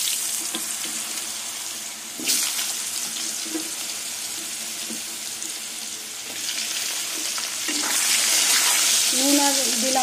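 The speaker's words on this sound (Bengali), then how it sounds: "এবার এই তেলের মধ্যে আলুগুলো ভেজে নেব।" Potatoes fry in oil in a close, continuous sizzle that swells when they hit the pan and grows louder and brighter toward the end, with a few utensil knocks and a brief bit of background sound.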